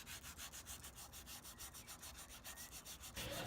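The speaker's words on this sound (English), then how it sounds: "And then some sanding for the round over." Rapid, rhythmic rasping strokes of sandpaper rubbing over the round-over edge of a wooden pot coaster, close and steady with no voices.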